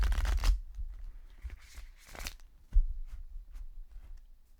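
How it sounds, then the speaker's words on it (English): A deck of playing cards gets a quick shuffle close by. It makes a few soft riffling and flapping bursts with light taps between them, fairly quiet overall and with no talking. "I'm gonna give this a quick shuffle"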